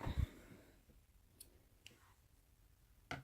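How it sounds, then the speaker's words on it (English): Waste yarn snipped on a circular sock knitting machine: a loud handling thump at the start, then a few sparse, quiet clicks and one sharper snip near the end in a quiet room. "the first thing I want to do is I want to cut my waste yarn"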